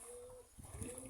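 Pigeons coo softly while taking a bath in water mixed with alum and neem leaves, their low murmuring calls rising over a steady background hum.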